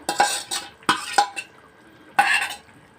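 A spoon stirs a spiced stuffing of pepper, salt and chili paste in a pot for Egyptian mahshi, making a few separate bursts of scraping and clinking with short quiet gaps.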